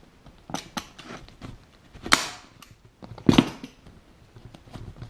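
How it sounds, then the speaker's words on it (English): A staple gun drives staples into a Yamaha Virago motorcycle seat cover, firing several sharp, close snaps at irregular intervals, with quieter handling clicks and rustles between shots. "putting the stapler against it, and just firing staples in"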